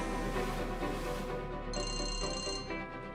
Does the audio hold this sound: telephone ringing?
yes